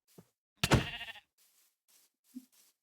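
A single Minecraft sheep bleats loudly in a short, wavering burst, with a few faint game clicks and soft thuds before and after.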